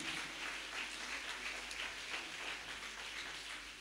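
An audience applauds for Father Kolakani Marianna with a steady, dense wash of clapping that holds evenly at a moderate distance throughout.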